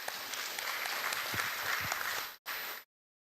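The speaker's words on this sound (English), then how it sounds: "Can we have a huge round of applause for all of them?" Audience at an IEEE conference award ceremony applauds the awardees, a dense round of clapping that holds steady, briefly cuts out, returns for a moment, then stops abruptly.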